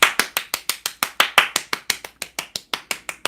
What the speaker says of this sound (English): I was just clapping for y'all.